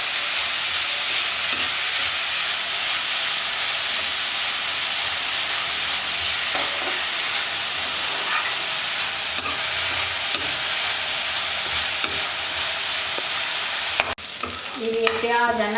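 Onions frying in hot oil in a pan fill the air with a loud, steady sizzle, while a spoon scrapes and stirs through them close up, with no talking.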